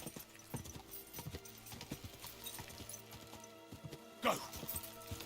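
Horse hooves clip-clop at a quick, steady rhythm as a rider travels in Kingdom Come Deliverance 2, with a clatter near the end; a voice speaks over the hoofbeats throughout.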